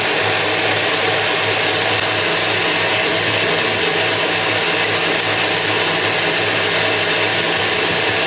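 An electric mixer beats eggs for a Winnie the Pooh layer cake, a steady loud whirring drone that runs without a break.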